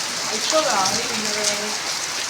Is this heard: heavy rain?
yes